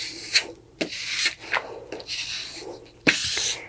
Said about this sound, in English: use a squeegee to press it out to both sides